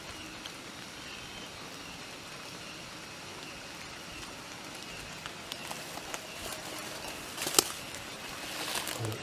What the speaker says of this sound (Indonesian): Sayangnya hujan guys.